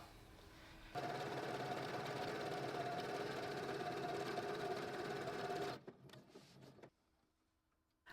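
A sewing machine set to a zigzag stitch runs in one steady, loud whirring burst of about five seconds, then stops with a few mechanical clicks and handling noises before falling quiet.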